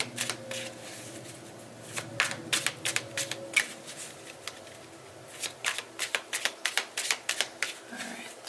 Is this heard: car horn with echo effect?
no